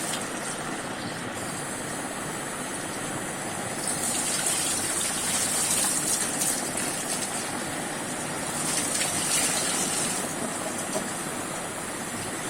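Running water from a tap washing small fish, a steady gushing splash that swells louder in the middle and again near the end, continuous and close.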